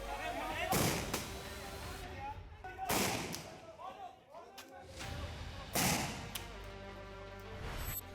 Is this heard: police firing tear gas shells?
yes